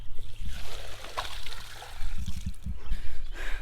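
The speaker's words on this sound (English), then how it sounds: "I gotta dump the water out of the goat feeders." Water is dumped out of goat feeders on a homestead, giving uneven trickling and splashing bursts that come in short clumps, fairly close and moderately loud, with faint background noise.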